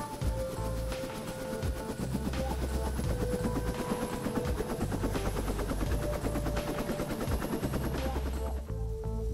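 A helicopter's rapid, steady rotor chop thuds continuously at close range with engine whine, loud and unbroken throughout.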